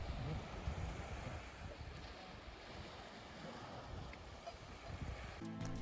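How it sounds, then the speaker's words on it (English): Ocean waves wash continuously onto Iceland's Arctic coast, a steady broad surf roar with gusts of wind buffeting the microphone and a brief thump near the end. "if I turn on the audio for just the sound of the waves"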